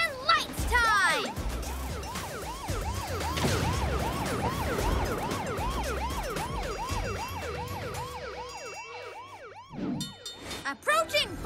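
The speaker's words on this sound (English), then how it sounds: "Sirens and lights time!" Cartoon train siren from an animated train series, a rapid repeating wail cycling up and down many times, loud and close, with rumbling movement underneath and a few clanging bursts toward the end.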